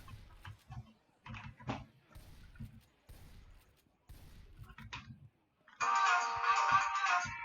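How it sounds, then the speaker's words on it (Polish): A phone ringtone plays during a Left 4 Dead 2 overhaul mod session, entering loud and sustained near the end after stretches of speech, ringing steadily for its last couple of seconds. "telefon dzwoni"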